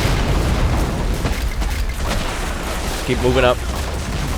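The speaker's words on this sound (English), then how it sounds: "Starting to get punished, though, by Japanese artillery that is over in the northeast sector." Japanese artillery strikes land in a Men of War: Assault Squad 2 beach battle on Le Shima, 1945, as steady low booms and rumbling explosions under constant battlefield noise, with someone speaking briefly near the end.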